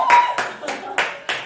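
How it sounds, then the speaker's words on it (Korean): Hand clapping during a standing ovation at a magic show, five distinct evenly spaced claps, close and moderately loud with nothing else around them. "기립박수가 이렇게 좋은 건지 몰랐습니다"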